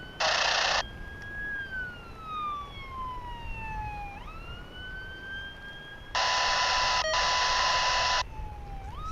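Wailing ambulance siren near an airport, loud and close, sweeping down in pitch over several seconds and rising again, with bursts of roaring broadband noise at the start and again near the end, over a steady rumbling background.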